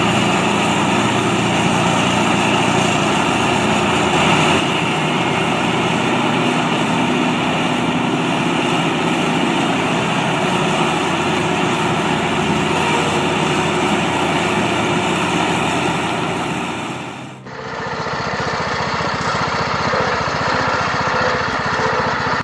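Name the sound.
Vermeer wood shredder grinding wood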